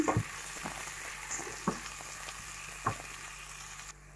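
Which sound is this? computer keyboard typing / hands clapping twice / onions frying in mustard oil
onions frying in mustard oil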